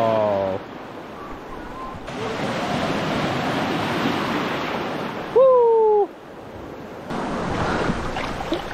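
Sea waves at Radhanagar beach on Havelock island roll in as a broad, steady wash of surf with wind noise, broken by a short tonal hoot midway and abrupt shifts in level.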